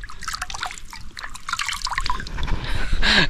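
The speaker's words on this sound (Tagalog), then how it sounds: "Ayun, may tubig. Tubig po." Cold stream water trickles and drips steadily through a forest near Juneau, Alaska, a close, continuous liquid babble with brief splashy bursts near the end.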